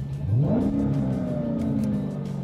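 A 2015 Dodge Challenger SRT Hellcat engine blips and revs sharply, its pitch sweeping up fast then holding a loud, sustained roar before easing slightly, close by with no speech.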